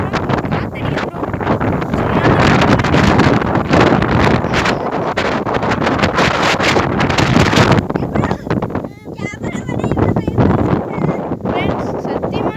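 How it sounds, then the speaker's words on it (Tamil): Strong wind roars and buffets loudly against the microphone almost nonstop, with a voice speaking intermittently underneath the gusts. "காத்தடிக்குது ஃப்ரெண்ட்ஸ். காத்தடிக்குது ப்ரோ."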